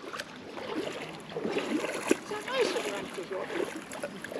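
Water splashes and sloshes around someone wading into a lake at a campsite, with irregular close splashes and a person speaking over the sound.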